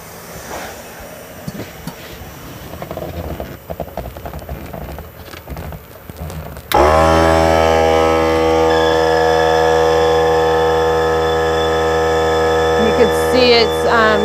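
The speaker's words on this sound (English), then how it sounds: "Gaining air pressure already." An air compressor kicks on abruptly partway through and runs loud and steady with a strong droning hum, building pressure for mold making; before it starts there are quieter shuffling handling noises.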